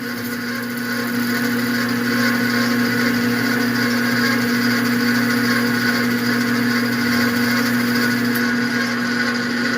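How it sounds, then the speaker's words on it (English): Clutch part from an AC 300 4x4 turning while 600 grit sandpaper is held to it, a loud steady whirring hum with a constant tonal drone and a continuous rubbing hiss throughout. "Then we'll take some 600 grit to it."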